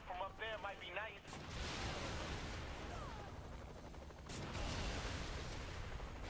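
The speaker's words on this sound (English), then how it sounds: "because he's right next to the explosion." Explosions and gunfire in the video game Saints Row: The Third, a loud sustained roar of blasts and rapid shots following a brief burst of speech, with a second heavy blast near the end.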